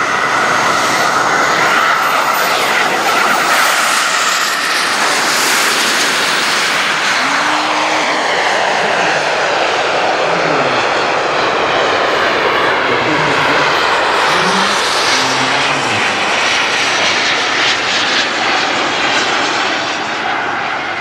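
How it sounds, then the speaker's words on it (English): An F/A-18 and an A-10 military jet take off together, a loud, sustained roar of jet engines filling the air and shifting in pitch as they power up and climb, with no voices. "the F-18 and A-10 taking off"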